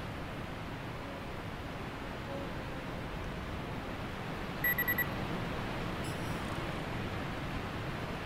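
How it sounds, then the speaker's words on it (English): A short series of high electronic beeps from a landmine in the video game The Tesla Effect rises briefly over a steady, hissing background hum. "close enough to make one of them beep"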